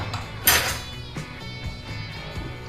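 Clatter of utensils tossing linguine with lamb's lettuce pesto in a salad bowl, a sharp metallic clink early followed by softer repeated scraping and knocking.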